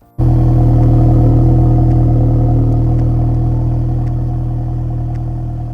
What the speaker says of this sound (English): So, on idle, this is what the Polo GTI sounded like.